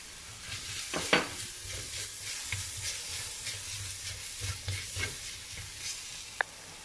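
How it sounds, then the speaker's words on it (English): Pounded garlic and ginger dropped into already flavored hot oil, frying with a soft continuous sizzle and occasional stirring clatters, fairly quiet and close, no voices. "Now goes in the garlic and ginger that you pounded just now."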